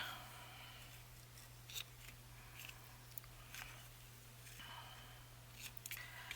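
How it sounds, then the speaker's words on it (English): Scissors snip through wire in a few short, sharp clicks spread across the stretch, close and fairly quiet over a steady low electrical hum. "I'm going to cut it off."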